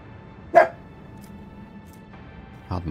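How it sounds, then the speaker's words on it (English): Outside, a dog gives a single sharp bark, then a second fainter bark a couple of seconds later, both heard at a distance over a quiet indoor hum. "I can hear a dog barking outside."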